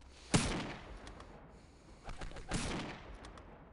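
Two sharp bursts of grenade explosion and gunfire in the video game Postal 2, a loud blast followed a couple of seconds later by a second, longer crackle, with no talking.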